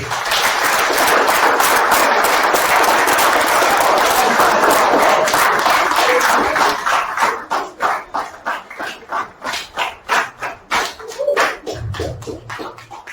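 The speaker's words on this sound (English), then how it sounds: "I wanted to continue before you started clapping" A lecture audience of university attendees breaks into sustained dense applause for several seconds, then thins into scattered individual claps as a voice begins speaking.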